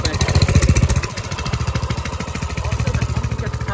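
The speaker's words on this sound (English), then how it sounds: "let's get that exhaust sound real quick." Coleman mini bike engine revving and idling with a loud, raw exhaust note, its rapid, regular firing pulses chugging steadily close to the microphone; the Coleman model is a CC100X, RB200 or CT200U-EX.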